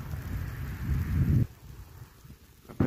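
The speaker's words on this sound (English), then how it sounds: "It's raining here." Steady rain patters in Monument Valley, a broad hiss with low rumbling noise, loud at first and then softer, with a sharp knock at the end.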